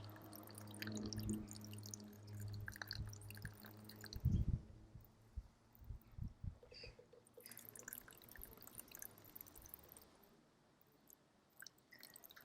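A little water poured onto an outdoor model river trickles and drips down its course in soft, irregular splashes, with a few louder dribbles early on before it fades to quiet droplets.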